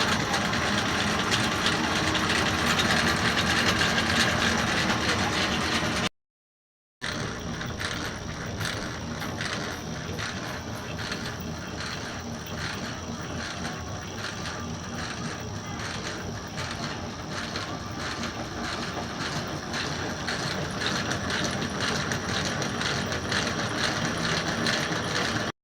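A coil winding machine spins as it winds the transformer for a tube amplifier, giving a steady, fast mechanical whirring with rapid rhythmic ticking. It runs close and continuously and stops briefly once before starting again, with no voices.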